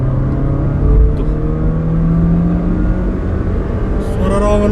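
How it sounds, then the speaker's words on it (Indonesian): The DOHC i-VTEC engine of a 2021 Honda City Hatchback RS revs up loudly from close by, a steady droning whine that holds and climbs toward high RPM. "dia itu menghasilkan raungan mesin yang suaranya itu cukup indah ketika di RPM tinggi"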